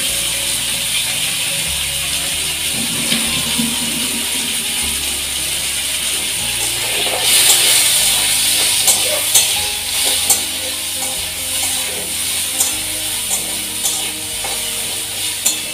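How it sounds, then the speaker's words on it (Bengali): Chicken pieces frying in hot oil with a little lemon, a steady crackling sizzle running throughout with ticking, clicking bursts and a brighter flare midway, close and fairly loud with no talk. "তেলটা গরম হয়ে গেছে, আমি এতে চিকেনগুলো দিয়ে দিচ্ছি।"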